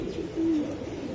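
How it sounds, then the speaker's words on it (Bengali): A single soft, low coo from a racing pigeon, brief and fairly faint against quiet background noise. "একদম অরিজিনাল আমার চোখের কবুতর"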